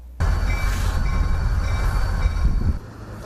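Train rolling past a railroad crossing in northeast Louisiana: sudden loud onset of heavy rumbling wheels and rail noise, steady and close for about two and a half seconds, then dropping away.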